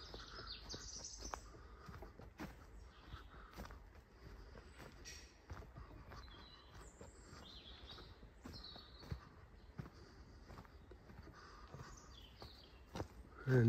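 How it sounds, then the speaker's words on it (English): Birds sing in the woods, scattered chirps over faint outdoor ambience, with occasional soft footsteps or knocks mixed in. "The birds are singing."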